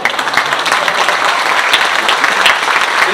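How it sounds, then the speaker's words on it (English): Audience applause at a regional transportation forum, a steady dense wash of many hands clapping that fills the room evenly from start to finish. "That was supposed to be an applause break."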